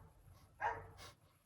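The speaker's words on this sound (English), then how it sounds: "Apologies for the barking dog" A dog gives a couple of short barks at a distance, muffled and brief against a low background hum.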